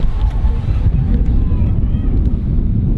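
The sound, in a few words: wind blowing at outdoor festival campsite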